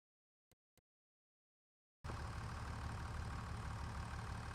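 A nearly new, powerful and heavy tractor in Farming Simulator 25 idles with a steady, loud, even engine drone that starts abruptly after two brief clicks and a stretch of silence.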